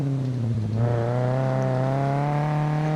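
A car engine in the survival video game SCUM revs steadily with a buzzy, harmonic drone, climbing in pitch partway through and holding loud and close, rough like a derby car.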